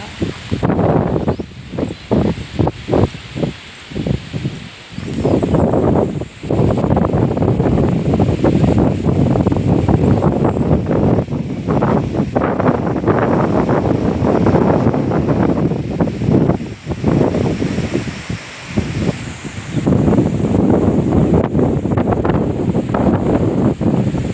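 Strong wind sweeps across an open farm field planted with young mango saplings and leafy greens. It gusts and buffets the microphone with a loud, rough rumble that continues throughout.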